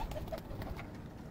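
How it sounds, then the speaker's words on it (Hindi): Soft, low cooing of pigeons, a few short murmured calls in quick succession close by, with no talking. "पुराने कबूतर।"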